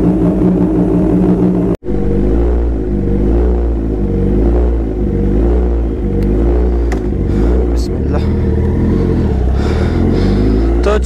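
A superbike engine warms up before a Sunday group ride: a deep, close idle rumble broken by repeated rhythmic throttle blips that rise and fall, with a short cut near the start.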